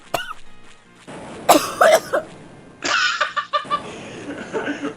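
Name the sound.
person coughing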